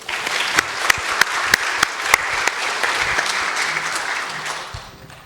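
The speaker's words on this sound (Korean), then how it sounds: "우리 박수로 격려할까요?" A church congregation at a Sunday evening service applauds to encourage newly baptized members, with crisp, distinct claps standing out over the general clapping before it tapers off near the end.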